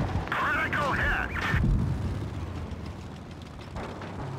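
A tank blows up in World of Tanks Blitz during a winter battle, a deep booming impact that rumbles and fades under game radio chatter and a player's voice.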